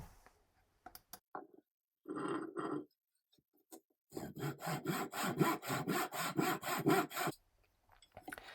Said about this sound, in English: So here's our first leg that we've cut, and you can see using the miter box that it cuts very straight